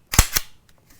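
Bolt of a B+T APC9 pistol caliber carbine with a hydraulic buffer cycling back, two sharp close metallic clacks in quick succession followed by faint small clicks, no talk.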